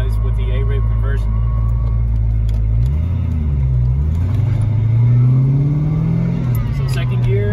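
A 2000 Saleen with an 8-rib pulley conversion and boost drives and accelerates, its loud, close engine rumble climbing in pitch as it pulls, then settling and rising again.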